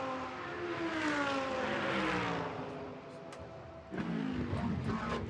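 GT race cars racing flat out at the Spa 24 Hours endurance race, engines droning loudly with shifting pitch, one car fading and another roaring up close near the end, under constant trackside noise.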